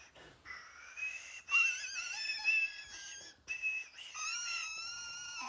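A man imitates a strange whistling noise with his mouth, a wavering, airy, breathy whistle that comes in several sustained bursts with short pauses between them.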